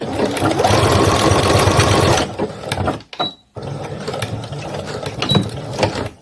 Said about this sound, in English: I don't sew often enough with this machine, so I'm constantly forgetting things like you gotta backstitch and whatnot